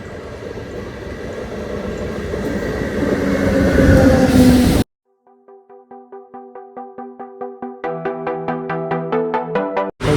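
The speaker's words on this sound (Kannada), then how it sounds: "ಇವಾಗ ಬಂತು ಟ್ರೈನು" A passenger train pulls into a station on a midday service to Tumakuru, first a loud broad rumble that builds and then breaks off, followed by a run of evenly spaced ringing tonal pulses.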